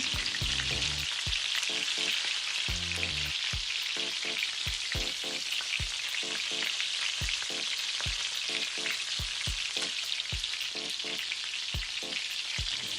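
Steady loud sizzling of chicken lollipop pieces frying in hot oil in a wok, with regular clinks and scrapes of a utensil stirring in the metal pan.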